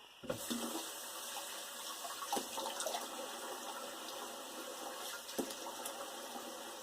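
Tap water runs steadily into a bathroom sink for rinsing off after a goatee shave, a soft continuous splash with a few brief louder splashes, no voices.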